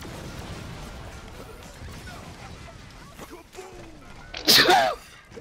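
One loud, sharp sneeze bursts out near the end, close to the microphone, after several seconds of quiet game noise and faint background sounds.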